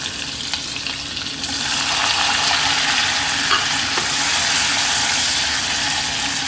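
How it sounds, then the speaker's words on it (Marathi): Chopped onion hitting hot oil in a pan already holding curry leaves, garlic and green and dried chili, with a steady close sizzle that swells after the first second and holds loud with a few soft stirring clicks. "त्यानंतर आता आपण टाकूया कांदा."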